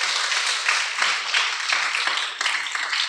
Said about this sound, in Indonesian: Tepuk tangan lagi untuk Tasya.